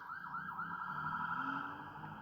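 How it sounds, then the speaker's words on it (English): An ambulance siren wails steadily as it passes nearby, its rising and falling tone loud and continuous with no talk over it. "Let the ambulance go by."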